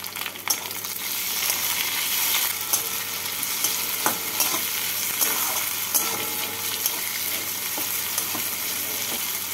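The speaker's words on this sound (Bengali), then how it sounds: "টমেটোটাকে পেঁয়াজের সাথে নাড়াচাড়া করে নেব" Chopped medium tomato stirred into fried onions in a pan for muro alur ghonto, giving a steady close sizzle with scraping spatula strokes and occasional clicks against the pan throughout.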